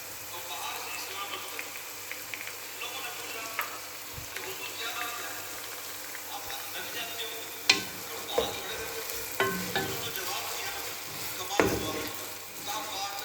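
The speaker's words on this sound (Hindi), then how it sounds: "इसको हम लाइट ब्राउन करेंगे प्याज को घी में अच्छी तरह" Onions sizzle and fry steadily in hot ghee, with occasional scraping stirs and clinks from a utensil, close by.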